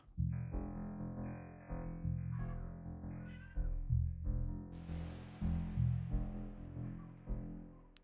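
A repeating electronic synth loop in an IDM/glitch style, run through a filter effect, with a filtered, shifting tone; midway a bright noisy swell rises and slowly fades as the pattern keeps cycling.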